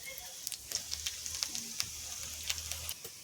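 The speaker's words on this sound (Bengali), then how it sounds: "ফোড়ন দেব।" Cumin, dried red chili and bay leaf hit hot oil and sizzle in a steady, close crackle with scattered sharp pops, a low hum running beneath and no talk over it.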